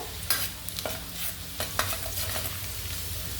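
Vegetables stir-fried in oil over a high flame for Schezwan rice hiss with a dense, steady sizzle, punctuated by sharp clanks and scrapes of a spatula tossing them in the pan.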